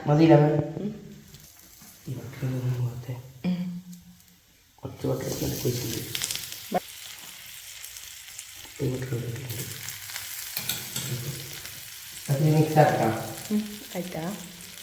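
Buns frying in butter in a pan give off a steady, fairly quiet sizzle, with people talking over it for most of the stretch.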